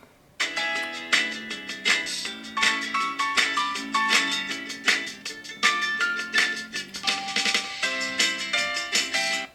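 A Google Pixel 2 phone's built-in speaker plays a bright, tonal melody with clear repeated notes. The sound is fairly loud and thin, starts abruptly and continues steadily with no talk over it.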